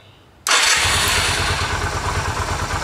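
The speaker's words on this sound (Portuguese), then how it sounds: "Girou o arranque. A moto liga." Yamaha XV 250 Virago motorcycle engine starting after a battery replacement: a quiet lead-in, then the engine catches abruptly and settles into a loud, steady, close-up idle with a pulsing low beat.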